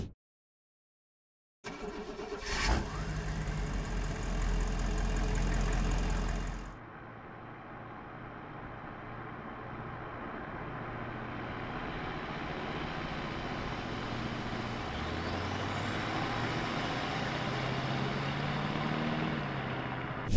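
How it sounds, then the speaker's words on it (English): Humvee engine from the video game Squad, starting with a sharp burst and loud revving, then settling into a steady, mid-level idle drone with a few rising whines toward the end. "Let's hear the engine from the Humvee."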